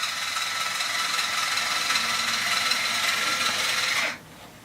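A battery-powered Wrap Wrench winds an ACE bandage, giving a steady whirring, rasping motor drone close up that runs evenly for about four seconds and then cuts off abruptly.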